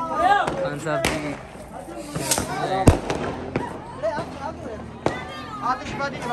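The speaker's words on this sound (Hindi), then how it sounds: "हां आतिशबाजी चलाते ये देखो काट के काट काट के।" Diwali fireworks crackle and bang outdoors in repeated sharp bursts, with one loud blast standing out, as excited voices chatter and shout nearby throughout.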